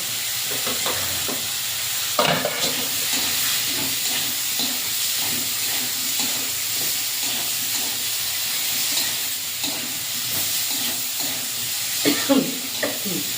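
A cumin and mustard paste stirred in a hot pan with potatoes before water goes in, a loud continuous sizzle and steamy hiss with repeated spatula scrapes, a couple of stronger bursts standing out.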